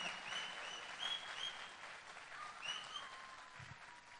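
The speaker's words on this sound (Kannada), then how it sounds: "ಬರ್ಲಿ ಚಪ್ಪಾಳೆ." Sustained audience applause at an award ceremony for a best dialogue award, a steady wash of clapping from a crowd lasting throughout, moderately quiet with no talking over it.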